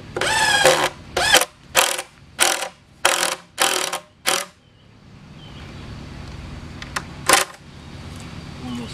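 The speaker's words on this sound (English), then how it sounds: "One more screw on this side," A power drill drives a screw into a wooden raised garden bed board with six loud, evenly spaced pulsing bursts, then a quieter stretch with faint rustling and one last short burst.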